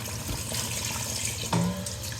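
Broth poured into beef cooking in a rice cooker: a short, soft, continuous liquid splash and trickle, quiet and close, with a small clunk near the end.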